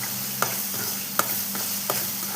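Crushed ginger, garlic, chilli and small shallots sauté in hot oil for a vegetarian fish curry, giving a steady close sizzle punctuated by a few sharp spatula scrapes and taps against the pan.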